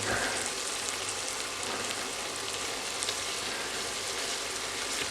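Tomatoes, garlic and ginger fry in coconut oil in a pan for chicken Chettinad, giving a steady, dense sizzle throughout with no talk.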